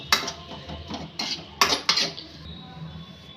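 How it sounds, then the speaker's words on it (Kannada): A metal spoon scrapes and knocks against a pan while okra and potato sabji is mixed, four or five sharp clanks in an uneven rhythm over a faint background hiss. "ಎಲ್ಲ ಮಿಕ್ಸ್ ಮಾಡ್ಕೋಬೇಕು."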